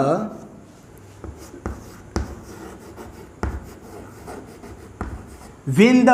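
Pen writing on paper in a chemistry lesson, with scattered short strokes and taps at a steady pace, close and moderately loud. A voice speaks at the end.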